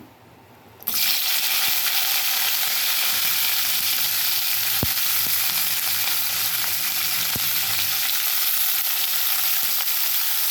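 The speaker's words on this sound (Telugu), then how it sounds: "ఇప్పుడు పచ్చిమిర్చి వేసేసుకుంటాను." Green chillies dropped into hot oil set off a loud, steady sizzle that starts abruptly and continues close up without a break, with a few faint clicks of stirring.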